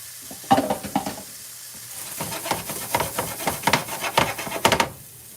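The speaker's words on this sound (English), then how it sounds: "after sauteing the diced vegetables" Diced vegetables sautéing in a home kitchen pan, a steady sizzle with a dense run of quick scraping and tapping stirs building over the last few seconds, close by with no talking.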